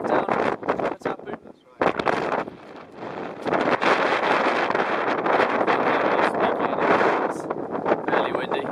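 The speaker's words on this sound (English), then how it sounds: "Fairly windy." Strong wind buffets the microphone in loud, roaring gusts that barely pause, with a voice partly buried under the blustering noise.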